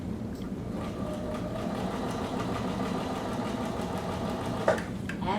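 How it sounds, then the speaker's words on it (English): A sewing machine runs steadily while stitching bias tape trim onto a pocket, a continuous whirring hum with faint ticking and one brief clunk near the end. "And I'm sewing on the edge of my bias tape."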